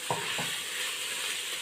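Mutton sukka with grated coconut gets stirred in a pan, two brief scraping strokes over a steady low sizzle, close and quiet.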